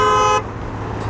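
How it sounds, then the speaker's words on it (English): A car horn at a busy intersection gives one loud, sustained honk, then cuts off, leaving low traffic rumble and a faint second tone at the end. "hold up a sign that said honk if you love someone at a busy intersection"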